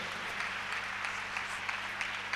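A church congregation claps together to acclaim the Lord during a sermon, a steady, soft patter of applause heard from a distance.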